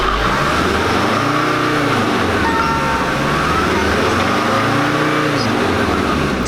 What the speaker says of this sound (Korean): 자, RPM을 3000rpm 이상 올려보겠습니다.